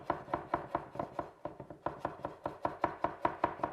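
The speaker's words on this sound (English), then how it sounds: "I'm just going to give them a quick chop." Knife chopping avocado with cilantro and lime on a cutting board for a dip, a fast steady run of about fifteen close crisp thuds with a brief pause near the middle, with no one speaking.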